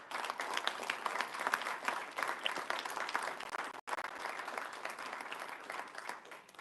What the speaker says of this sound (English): he really, really deserves a good round of applause